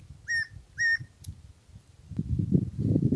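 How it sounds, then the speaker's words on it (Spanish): A wild bird near its nest on the Cruz Loma trail above Quito, Ecuador, gives two clear whistled notes in quick succession, then falls silent as low rustling and footsteps rise underneath. "Escucho cantar un pájaro."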